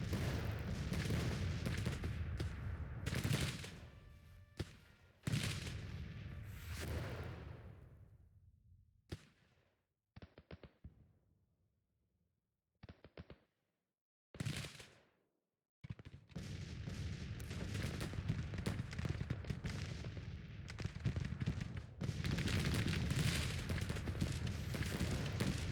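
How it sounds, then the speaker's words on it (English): Cannon artillery in the Civil War strategy game Grand Tactician, with dense rolling gunfire and booms dominating, a quieter stretch of scattered sharp reports midway, then heavy continuous firing resumes. "God, what cannons are those? They're smacking me."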